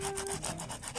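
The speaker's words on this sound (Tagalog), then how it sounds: "Huwag nyo namang tapakadiinan yung liha niya, kasi siya yung mag ano lang, luminis." Sandpaper rubbed back and forth over the carbon contacts of a motorcycle starter relay, a close, rapid rasping scrape repeated in quick even strokes.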